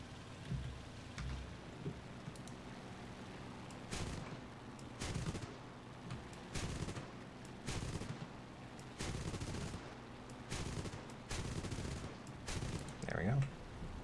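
Aircraft cannons and machine guns fire in the War Thunder flight game during a night battle: repeated short, loud bursts of rapid gunfire every second or two, separated by brief lulls with low engine drone.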